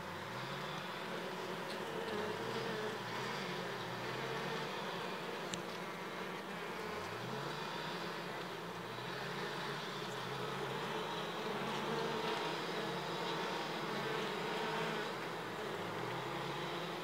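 Italian Ligustica Cordovan honey bees hum inside an open hive with a dense, steady buzz throughout, faint and even, with a low rumble pulsing underneath.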